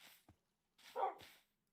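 A dog in Minecraft gives a few short, faint barks and whimpers, spaced apart, with brief silences between them.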